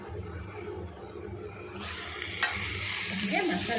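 Chicken tipped into masala in a hot pan, a low steady background that bursts into a loud, close sizzle halfway through, with a sharp clatter and scraping as it is stirred.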